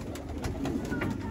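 Racing pigeons of a pure Punjabi breed coo close by in soft repeated throaty pulses, several calls in quick succession over a low background hum.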